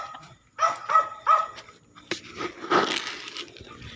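Dogs bark several times in quick succession, fairly close, followed by a louder, rougher bark and some panting.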